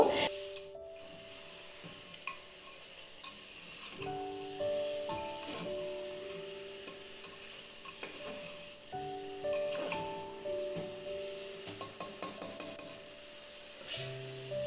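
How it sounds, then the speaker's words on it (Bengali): Marinated mutton is stirred in a pressure cooker, giving quiet, irregular rubbing and scraping strokes with a few sharper clinks of the spoon against the metal pot, faint sizzle in the background. "আমাদের সম্পূর্ণ মাংস প্রেশার কুকারে দেওয়া হয়ে গেছে এবার আমরা এটাকে ভালো করে নাড়াচাড়া করব"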